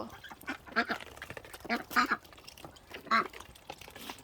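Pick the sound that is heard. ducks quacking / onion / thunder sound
ducks quacking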